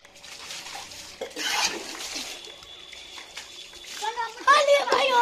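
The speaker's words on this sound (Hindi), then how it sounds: "देखिए अभी भी पानी पूरा फेंक रहे एक दूसरे पे, गंदा पानी" Children splash dirty water at one another, sloshing and spattering in bursts, while voices chatter and call out over the water.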